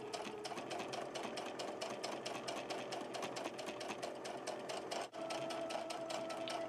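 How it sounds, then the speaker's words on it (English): A sewing machine runs steadily, stitching a 5/8 inch seam around a tote bag. Its needle chatters in a fast, even rhythm with a brief pause near the end, close and alone with no voices. "get started on sewing all the way around 5/8 seam"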